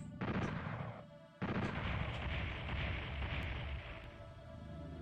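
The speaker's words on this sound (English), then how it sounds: "Don't want to get caught in the middle of an explosion like that." A loud explosion from the PlayStation game Final Doom booms over rumbling gunfire. A short gap follows, then another heavy blast with sustained roaring and crackling, and a few sharp pops near the end.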